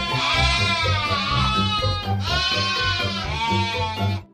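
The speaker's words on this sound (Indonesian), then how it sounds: "Wadidaw, ada domba teman-teman." A sheep bleats in the video game Jurassic World Evolution, giving two long, loud, wavering calls one after the other with no speech over them.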